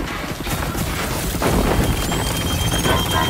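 Dense rolling explosions and crashing destruction from chain gun fire in the Chaos physics demo video game, loud and continuous with thudding booms and debris clatter.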